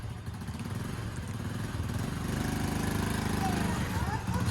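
A motorcycle engine runs with a steady, throbbing idle close by, growing slightly louder, while people talk over it.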